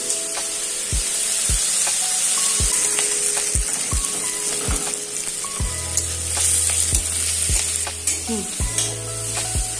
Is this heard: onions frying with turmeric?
yes